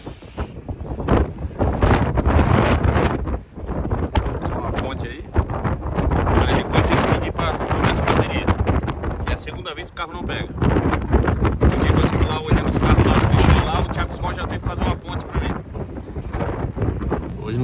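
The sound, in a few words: strong wind on the street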